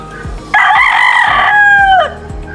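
Rooster crowing once, loud and close, a single drawn-out call lasting about a second and a half, with soft thumps and faint background noise around it.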